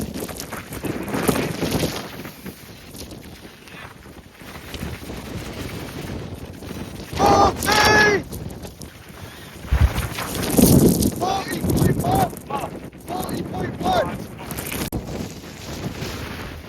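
A roaring 60 mph wind storm at a wild camp buffets the microphone with loud, continuous gusts that surge and fall, and voices call out briefly over the blowing.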